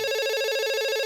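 A telephone in a dubbed South Indian action film rings with a sustained, loud electronic bell tone, continuous and alone, unbroken across the moment before a call from the home minister.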